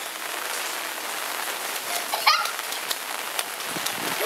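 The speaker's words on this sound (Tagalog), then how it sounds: "It's raining, yes, it's raining." Steady rain falls on surfaces outdoors as a continuous hiss, with a faint brief bird call partway through and no talking.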